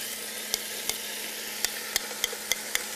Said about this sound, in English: We can add back the onions carefully.